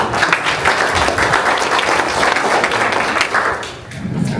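Dense audience applause fills a town hall meeting in West Covina, a loud, continuous patter of many hands that thins and fades toward the end, with a voice faintly underneath.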